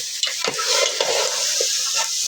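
Meat sautés in a pan, with a loud continuous sizzle and repeated close scraping stirs in a brisk, uneven rhythm, with no talking.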